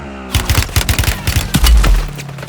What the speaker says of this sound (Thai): Watch your fire! You're shooting friendlies!